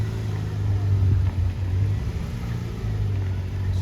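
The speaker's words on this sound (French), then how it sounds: "991 GT3 phase 1 qui s'en va." A Porsche 991 GT3 phase 1 pulls away with a steady, low engine rumble that stays close and fairly loud, swelling slightly as it accelerates, with no one speaking.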